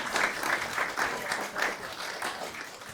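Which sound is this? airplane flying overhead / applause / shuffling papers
applause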